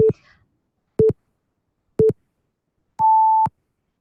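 Countdown timer started for a timed talk: three short, evenly spaced beeps one second apart, then a longer higher-pitched final beep, crisp and isolated against silence.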